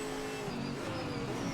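Engine of a GT4 race car in the Assetto Corsa Competizione racing game, a loud, steady droning roar held at high revs throughout, with no voices.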